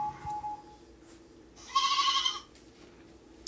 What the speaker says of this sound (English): If you're wondering, that is a goat or lamb sound.